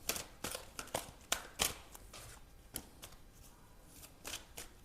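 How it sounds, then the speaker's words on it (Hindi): A deck of tarot cards is shuffled by hand close by, giving quiet, soft riffling bursts and crisp flicks in an uneven rhythm, with short pauses between handfuls. "एक बार फिर से शफल कर लेते हैं."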